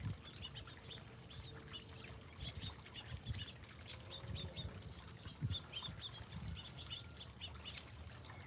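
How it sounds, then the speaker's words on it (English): Small wild birds in a cold Southern California garden chirp and tweet in quick, repeated bursts throughout, faint and somewhat distant, over a low background rumble. "these birds don't have a lot of fear"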